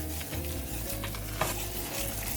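Flour being stirred and roasted in a pan for lasagna makes a soft, steady sizzle with scraping spoon strokes and an occasional light clink against the pan. No voices are heard.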